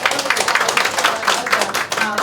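An audience at a charity event claps in a brief burst of rhythmic applause, with a voice audible underneath.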